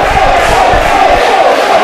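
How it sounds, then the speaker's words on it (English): Ringside wrestling crowd cheering and shouting, a loud continuous roar of many voices filling the arena throughout. "You can hear some cheers for the Mofo, which he won't acknowledge or accept."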